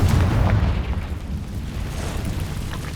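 A Confringo blasting spell in the Hogwarts Legacy video game, set in a cave, bursts into a loud rumbling explosion that decays into a dense low roar, heard alone.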